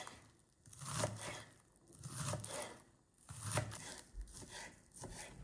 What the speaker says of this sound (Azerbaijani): Bu salatı dada gətirən göy soğanı da doğrayıram.